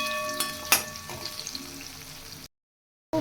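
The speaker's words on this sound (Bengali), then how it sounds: "এইখানে ভেন্ডি ভাজা চলছে।" Okra (bhindi) fries in a pan with a steady close sizzle broken by a couple of sharp utensil clinks, then a sudden cut to silence before the frying briefly resumes.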